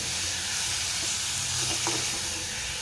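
Rawas fish with tomatoes and chilies is stirred through masala in a pan, giving a steady, fairly quiet sizzle and hiss with a few faint scrapes.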